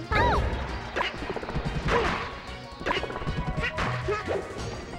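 Yoshi's forward smash in Super Smash Bros. Melee during a tournament grand final: several loud, punchy impact hits and swishes in quick succession amid busy game sound effects.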